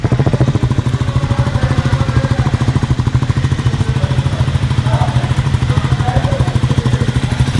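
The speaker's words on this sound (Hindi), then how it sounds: "सो आइडल कंडीशन में जो मोटरसाइकिल की साउंड है वो कुछ ऐसे रहने वाली है।" A 2025 Triumph Scrambler 400 XC motorcycle idles nearby, its engine putting out an even, low, rapid chugging pulse that holds steady throughout.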